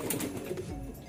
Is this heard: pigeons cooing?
yes